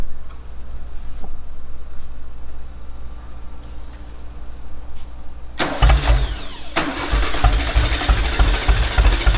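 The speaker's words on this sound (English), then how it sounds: "See if we can get it to idle a little here." A Porsche 550 Spyder kit car engine idles roughly at first, then catches and revs up loudly with a sudden burst, running close and rumbling with uneven throttle.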